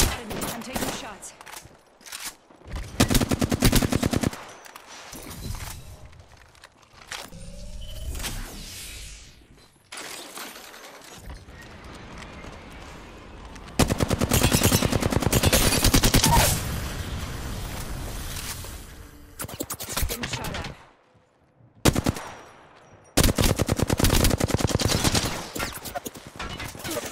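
Shooter video game gunfire: sustained bursts of automatic fire and heavy blasts come in several dense stretches broken by short pauses, loud and close, with occasional game voice callouts between them.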